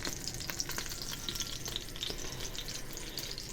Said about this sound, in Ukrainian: Рибка смажиться.